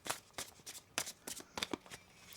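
A tarot deck being shuffled by hand gives a series of quick, crisp riffling bursts, soft and close, repeated several times in irregular rhythm.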